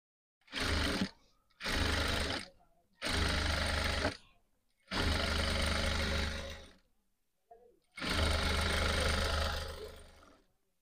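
Sewing machine stitching a blue fabric border runs in five loud, close bursts of rapid mechanical whirring, separated by short silent pauses, with no talking.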